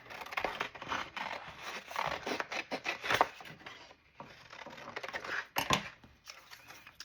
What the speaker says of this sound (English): And we might just cut us out a rose.